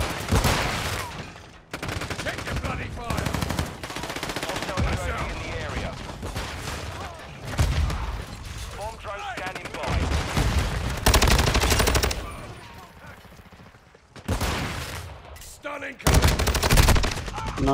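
Rapid gunfire from Call of Duty Modern Warfare II in a team deathmatch on the Shipment map, with dense bursts and fusillades close and loud, broken by brief lulls, while players talk over it.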